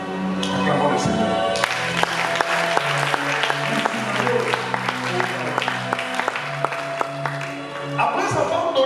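A church congregation bursting into sustained applause, dense and steady rhythmic clapping from a crowd that continues for several seconds, with voices and music faintly underneath.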